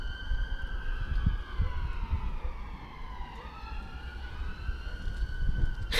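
Several police and emergency vehicle sirens wail together at a steady loud level, their rising and falling tones overlapping as if coming from more than one direction, with traffic rumble underneath.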